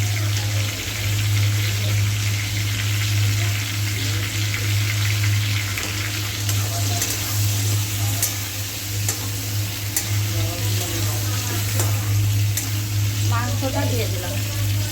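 Squash pieces sizzle steadily as they fry lightly in a pan for a chicken dish, a continuous close crackle with faint stirring scrapes and a low steady hum underneath.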